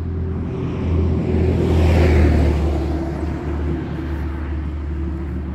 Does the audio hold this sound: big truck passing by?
yes